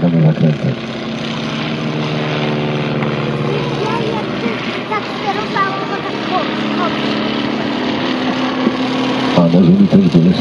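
Propeller airplanes maneuvering through tight turns at a military air show in Krosno, their steady engine drone loud and continuous while an announcer talks over it throughout.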